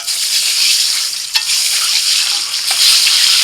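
Eggs frying in hot oil seasoned with turmeric and salt give off a loud, steady sizzle close to the ear, with a couple of brief utensil clicks against the pan.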